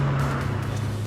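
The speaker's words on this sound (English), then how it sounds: "the little car just absolutely comes alive when you put your foot down" A small Ford Fiesta engine revving hard as the driver accelerates, a loud, close, rising drone with tire noise, brief and without talk.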